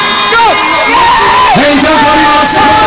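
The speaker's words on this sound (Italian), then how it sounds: "Un applauso anche a Vincenzo" Crowd cheering and shouting at a charity football match in Pianura, loud and continuous throughout, with voices whooping over a dense roar of the audience.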